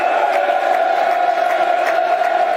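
A football stadium crowd at Millwall's ground roars and applauds a player in a steady, dense wall of sound, loud and continuous throughout without a break.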